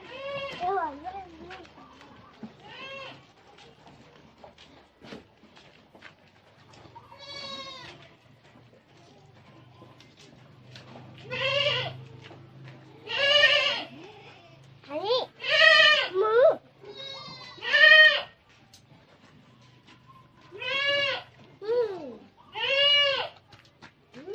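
Goats bleating in a village, a series of wavering calls that come in short bursts, some faint and some close and loud, with quiet gaps and light background noise between them.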